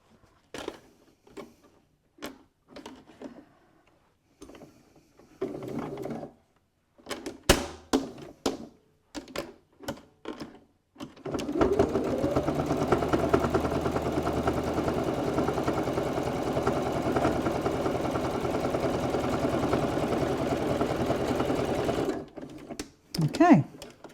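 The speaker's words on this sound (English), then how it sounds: "So now all we're going to do is top stitch along this edge here" A sewing machine top stitches along the edge of a cosmetic bag pocket, a loud steady whirring run lasting about ten seconds after scattered handling clicks and thumps, with a voice speaking before and after.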